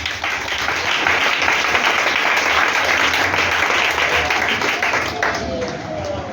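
A church congregation bursts into sustained, dense applause that fills the room evenly for several seconds and then begins to taper off near the end.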